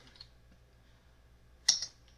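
Keyboard key pressed on a computer while renaming objects in ZBrush, a quick cluster of two or three crisp clicks close by in an otherwise quiet room, preceded by a faint earlier tap.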